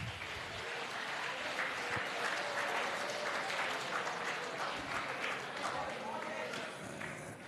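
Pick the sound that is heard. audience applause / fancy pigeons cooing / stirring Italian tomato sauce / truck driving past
audience applause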